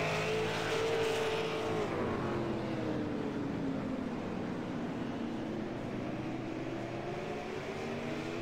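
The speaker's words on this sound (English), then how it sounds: "enjoy the sound of the cars hanging around this racetrack" Race cars lapping the Martinsville short track in a racing league event, a steady continuous engine roar with rising and falling pitch sweeps as cars circle, no talking.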